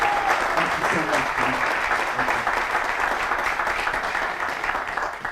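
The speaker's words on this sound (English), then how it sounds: "let's give a big round of applause to Commissioner Cantu" Sustained applause from an audience at the grand opening of a Precinct 2 youth facility, a dense wash of clapping that slowly tapers toward the end.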